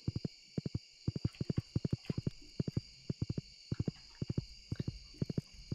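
Quick bursts of hoof clip-clops from a horse in the video game Stardew Valley sound in a steady trotting rhythm over a faint background hum, with no voices.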